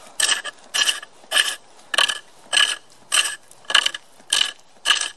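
A wooden workpiece spins on a pole lathe in a steady back-and-forth rhythm, with about nine evenly spaced raspy cutting strokes taking off small shavings, each one close and crisp against near silence.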